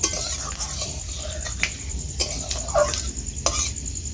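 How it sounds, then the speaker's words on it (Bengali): Spices for a Bengali sour lentil-fritter dish are lightly stirred in a pan, with several brief metallic scrapes and clinks of the spoon against the pan, fairly close, over a low background. "দিয়ে দেবো পাঁচ ফোড়ন হালকা নেড়ে চেড়ে নিচ্ছি"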